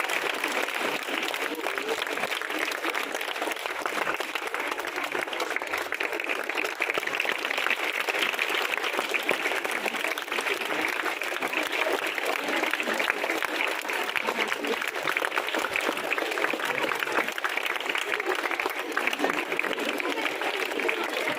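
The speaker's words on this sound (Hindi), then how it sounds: "ताली बजाइए।" Applause from an audience at a school birthday function in Alipura, Chhatarpur, steady dense clapping sustained throughout at an even level.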